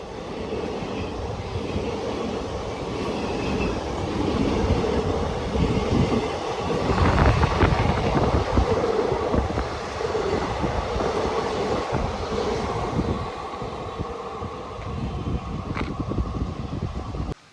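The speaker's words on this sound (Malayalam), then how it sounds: "ഇത് നമ്മുടെ ചെന്നൈ എഗ്മോർ മംഗളൂരു എക്സ്പ്രസ് ആട്ടോ" The Chennai Egmore–Mangaluru Express, train 16159, rolls through Ettimadai railway station on a rainy, foggy morning. It makes a loud, continuous rumble and rattle of wheels and carriages, swelling midway and easing off toward the end.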